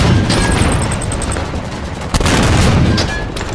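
Gunfire in the Halo 5 video game during a capture-the-flag match, dense crackling shots and booms running continuously at steady loudness, with a sharp louder burst near the middle.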